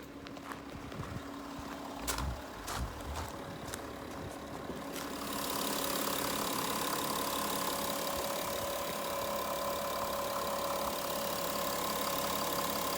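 A VW Touareg V6 TDI diesel idles with a steady, even hum, a few clicks and knocks early on before the engine note grows fuller and holds constant.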